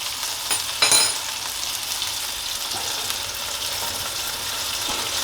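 Garlic sizzles and spits in a hot pan beside a seared steak, a steady close frying hiss with a brief louder crackle near the start and no talking.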